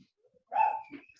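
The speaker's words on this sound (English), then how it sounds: "I'll probably be putting myself on mute because my dogs are barking" A single dog barks or yelps once at some distance in a home during an online meeting, a short, muffled bark followed by a faint trailing whimper.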